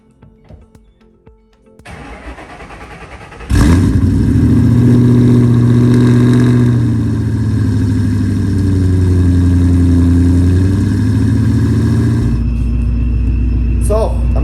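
A Ford Mustang GT500 clone, sitting for months on a weak battery, cranks briefly and then fires up. It settles into a loud, deep, rumbling cold idle close by that holds steady before dropping.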